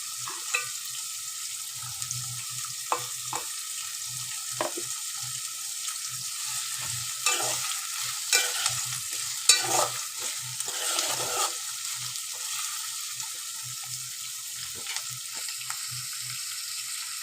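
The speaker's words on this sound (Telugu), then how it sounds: "ఇట్లా ఒక 5 నిమిషాల దాకా ఎర్రగా బ్రౌన్ కలర్ వచ్చేలాగా వేయించుకోవాలి" Onions and garlic frying in a pan until brown, giving a continuous close bright sizzle with irregular stirring scrapes and crackles, busier in the middle stretch, with no voices.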